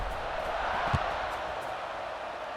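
A stadium crowd in the College Football 26 video game roars before a kickoff, a steady wash of distant cheering with a brief thump in the middle.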